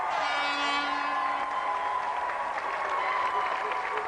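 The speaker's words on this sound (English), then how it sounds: "Round of applause for our volunteer" Studio audience applauding a volunteer at an arm-wrestling game show, a steady wash of clapping from a crowd at moderate level, with some cheering mixed in.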